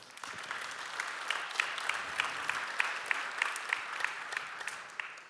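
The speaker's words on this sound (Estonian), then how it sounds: "aplaus Laurile." An audience at an industry talk on applying AI gives sustained applause, a dense patter of many hands clapping steadily throughout, fairly close and with no voices over it.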